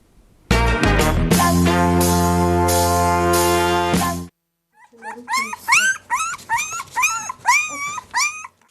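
Young puppies in a box give high, wavering whimpers and yips in a rapid cluster, following a few seconds of loud, sustained music, with a faint low growl beneath.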